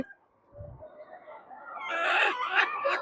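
Hili chickens on a farm cluck and call close by, with a brief low thump near the start and a rising, busier chorus of fowl voices toward the end.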